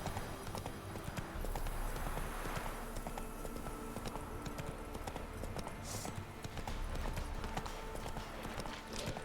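Horse hooves clip-clop in a steady trotting rhythm in The Witcher 3: Wild Hunt, running continuously under a bed of game ambience and music, fairly quiet overall.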